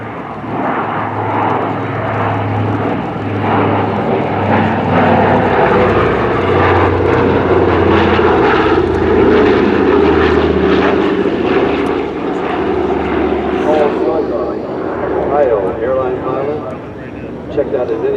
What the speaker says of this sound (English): Here comes our B-24 in the photo pass.